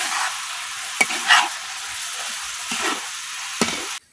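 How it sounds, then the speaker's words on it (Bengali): Papaya being stirred into caramel in a pan for laddus, with a soft sticky sizzle beneath a few distinct spoon scrapes and knocks spaced about a second apart before the sound cuts off abruptly. "এখন আমি লাইরা ফেরা পেঁপেটা ক্যারামেলের সাথে মিশিয়ে নিই"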